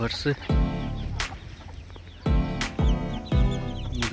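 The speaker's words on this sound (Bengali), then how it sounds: "মুরগি আছে মুরগির বাচ্চা আছে অনেকগুলো বাচ্চা আছে একটা মুরগির সাথে" Several loud, close clucks from a hen with many chicks on a farm in Abu Dhabi come in short bursts, with quieter clucking and faint bird chatter between them.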